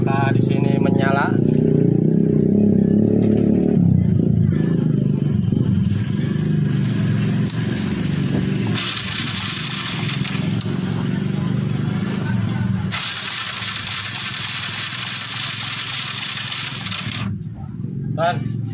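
A Kawasaki KLX motorcycle engine runs steadily with a low rumble while the starter is checked, with people talking over it throughout.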